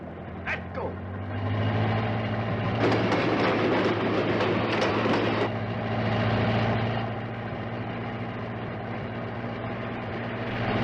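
A train rumbles past at close range with steady low clatter and a brief burst of hissing, heard amid old soundtrack noise from the film The Giant Gila Monster.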